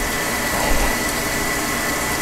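An Insignia 4.1 cu. ft. high efficiency top load washer running a wash cycle, a steady churning hum with water sloshing and a faint pump whir, close and continuous with no talk.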